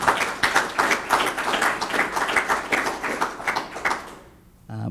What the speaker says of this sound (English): If you could please give them a round of applause for all the work that they do.